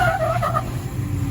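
A Jeep engine revs hard as it climbs an off-road trail obstacle, a brief loud burst of throttle with tire scrabble, heard close and alone.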